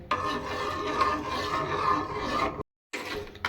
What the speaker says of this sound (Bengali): এইভাবে নাড়তে নাড়তে আগের তুলনায় অনেকটাই ঘন হয়ে এসেছে